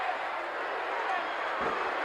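A wrestling arena crowd roars steadily for Hacksaw Jim Duggan in his 1984 match against Ted DiBiase, a dense, continuous wash of cheering that stays loud and even throughout.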